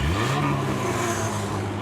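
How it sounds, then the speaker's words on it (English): Monster trucks roar at a rally with a crowd around them, a loud continuous engine rumble with revving, close and dense, with no clear gaps. "It's a crowd cheering and monster trucks roaring!"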